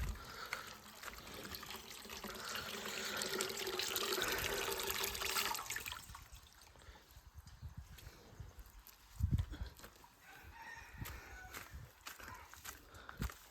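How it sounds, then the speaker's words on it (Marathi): Water runs from a tap into a metal pot, a steady rushing trickle for the first several seconds that then stops, leaving scattered knocks and faint background noise. "त्यांचा हांडा भरला तर नळ बंद करूया पाणी वाया घालूया नको"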